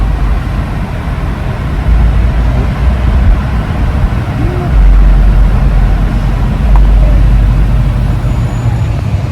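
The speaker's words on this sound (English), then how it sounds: "Alright, so we're getting on the freeway now. Ramping up in speed a little bit." An electric car gathers speed up a freeway on-ramp, a steady loud rumble of tyres and road noise building from inside the cabin, with no voices over it.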